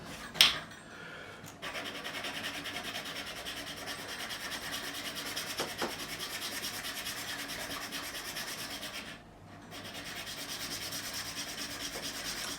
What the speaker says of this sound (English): I do a lot of this handwork on a file in a vise